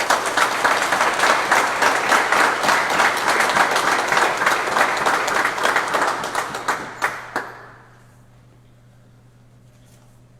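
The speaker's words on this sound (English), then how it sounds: "Could you give him a big round of applause" Crowd at a press conference gives a volunteer kayaker a round of applause, loud and sustained clapping that thins into a few last claps and then stops, leaving a quiet room hum.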